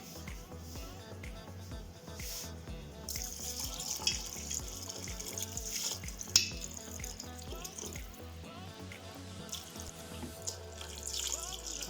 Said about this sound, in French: Et maintenant, je vais mettre mon eau.